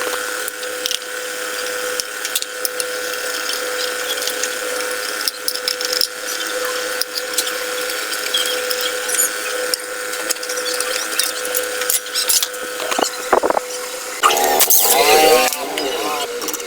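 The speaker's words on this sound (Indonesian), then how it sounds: "Jadi kita lepas dulu ini tutup kipas beserta kipas dan spoolnya." Repeated ratchet clicking and metallic tool sounds while the fan cover, fan and spool come off a Vespa scooter, with a persistent mechanical hum underneath and a brief louder clatter near the end.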